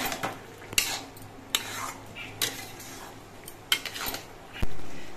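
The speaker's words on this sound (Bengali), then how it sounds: "সর্ষে বাটা দিয়ে নেড়ে চেড়ে মিশিয়ে নিতে হবে" Mustard paste being stirred into a bottle gourd curry in a pan, a spoon scraping and clinking against the metal in irregular strokes, close and moderately quiet, with a faint sizzle underneath.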